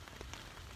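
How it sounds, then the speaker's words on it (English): Rain falling onto a tent and a 3x3 DD tarp at a campsite on a solo overnight hike from Lost World to Rat A Tat Hut, a soft, steady patter that stays faint and uniform throughout the brief moment with no voices. "I just got the tent up and then it started raining"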